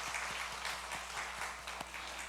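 A church congregation applauds during a Sunday worship service, welcoming visiting family members; dense, steady clapping from many hands fills the room at a moderate distance, with a few sharper individual claps standing out.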